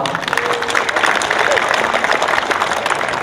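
A crowd applauds at the opening of the Mydlice Cup 2016 football tournament, loud, close, busy clapping mixed with crowd noise and some voices throughout.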